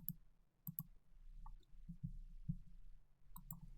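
Faint computer mouse clicks, a few brief taps scattered over a quiet low background hum.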